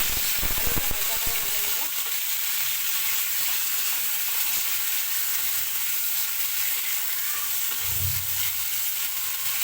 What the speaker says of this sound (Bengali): পেঁয়াজটা কিছুক্ষণ ভেজে নেবো এখানে।